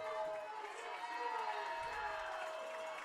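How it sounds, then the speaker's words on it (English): Home fans of Carey fill a high school football stadium on a crucial fourth down against Colonel Crawford, a broad sustained roar of crowd noise with cheering, steady and distant-sounding throughout, with an announcer's voice audible over it. "Carey crowd trying to bring the noise and fire up this Blue Devil defense."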